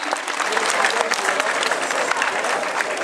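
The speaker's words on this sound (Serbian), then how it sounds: "zaslužili ste ovaj aplauz koji ste dobili" Strong, continuous audience applause at a flower carnival, many hands clapping close and dense throughout, with crowd noise mixed in.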